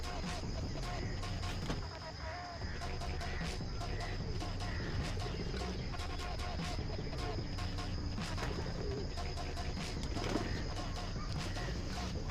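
Several pigeons at a home pigeon sale coo softly and continuously in the background, a low murmuring bed of calls with faint chirps throughout.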